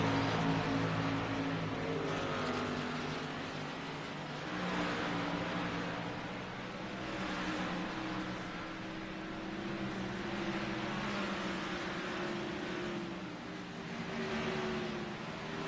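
Race cars circle a short oval track side by side, a steady engine drone with passing swells and fades, heard from a distance with no voices on top.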